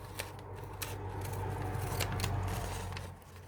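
Scissors cut through paper to trim out handmade fake stamps, several crisp snips over a soft rustle, close and fairly quiet, with no talking.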